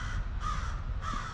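Several crows caw in a harsh, repeated pattern, two loud bursts standing out over steady outdoor background noise at a historic site with old cannons.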